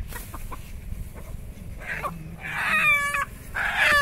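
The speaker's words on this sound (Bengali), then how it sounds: "এই তো মুরগি চলে গেছে, দেখো।" A hill chicken clucking outdoors at a rural cooking spot, several short nearby clucks and squawks growing louder toward the end, with faint background noise.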